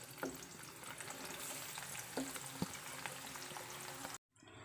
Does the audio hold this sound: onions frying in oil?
yes